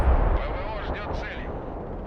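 Bombs detonate in the Broken Arrow war game as a heavy low rumble of blasts and booming impacts over about two seconds, with a voice talking over the explosions.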